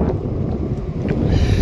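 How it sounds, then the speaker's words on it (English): Strong wind buffets the microphone on a lake bank during low-pressure January weather, a continuous loud rumbling roar with no break and no voice. "The wind is pumping in here, as you can see."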